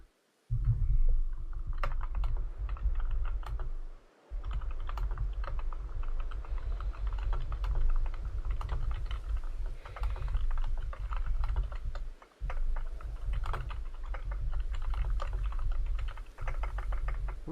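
Quick, steady typing on a computer keyboard, with close, crisp key clicks in continuous bursts broken by a few short pauses. A low rumble of background game music runs underneath.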